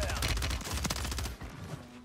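Rapid automatic gunfire in Call of Duty Warzone, a loud, dense burst of overlapping shots that cuts off abruptly partway through, followed by a brief lighter pop and quieter game sounds.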